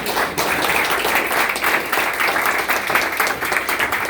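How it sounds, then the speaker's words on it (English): Steady audience applause for a panel at the close of a discussion event, dense and continuous throughout without a break. "I would give a round of applause for our panel here"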